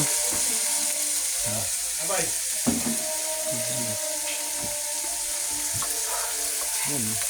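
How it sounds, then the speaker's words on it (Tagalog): Fish slides into a pan of sautéing garlic, onion and ginger, giving a steady loud sizzle with clatters and stirring, while people talk over the frying. "Hinulog na sa ginigisang bawang sibuyas, luya"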